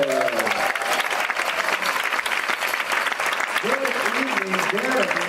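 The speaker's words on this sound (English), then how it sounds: "Please give a warm round of applause for" A crowd at a Native American dance showcase gives sustained, dense applause to welcome a Mohawk men's fancy dancer, while a voice speaks over the clapping at the start and again near the end.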